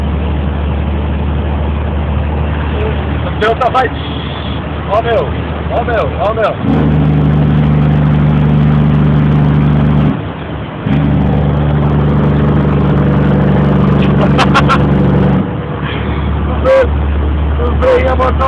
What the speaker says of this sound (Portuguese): Curte só o freio motor, quer ver?